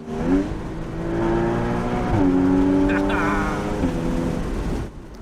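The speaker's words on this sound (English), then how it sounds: "We are driving a 981 Boxster S with a slight 315 HP" A 2013 Porsche 981 Boxster S with 315 hp drones from inside the cabin, rising and shifting in pitch as it accelerates, with a voice speaking over the engine.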